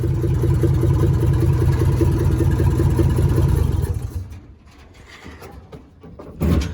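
A 1942 Chevrolet G506 truck engine drones loudly and steadily while driving, then drops off sharply to a quieter rumble with scattered knocks and rattles.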